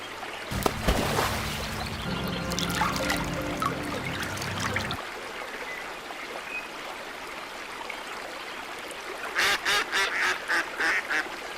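Trickling water and background noise give way to a short run of about six rhythmic duck quacks near the end, fairly close.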